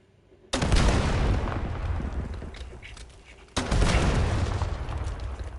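Gunfire in the Black Ops video game firing range: two loud, abrupt blasts, each followed by a long, noisy rumbling decay, the second coming about three seconds after the first.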